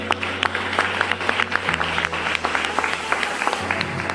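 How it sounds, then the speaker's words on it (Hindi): Audience applause at a direct-selling business training seminar, a steady wash of many hands clapping with sharper individual claps poking through, fairly close and continuous, with a low steady hum underneath. "तो आप सबके लिए एक जोरदार ताली होनी चाहिए।"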